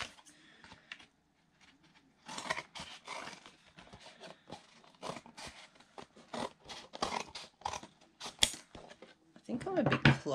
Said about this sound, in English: then I just cut the flaps off